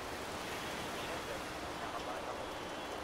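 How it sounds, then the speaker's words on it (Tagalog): Steady rain falls outside a motel in the Philippines, a soft continuous hiss of drops at moderate level with no talk over it. "Patila lang ako ng ulan."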